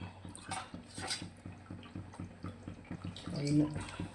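Water pours and splashes into a cooking pot for mutton biryani with soft, uneven gurgling, fairly quiet, mixed with faint kitchen clatter.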